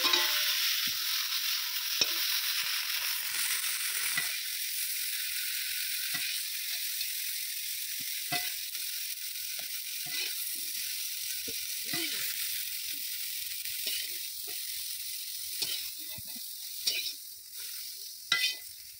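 Cauliflower fries lightly in oil in a pan with a steady, close sizzle. Scattered clicks and scrapes from stirring run throughout, and no one speaks.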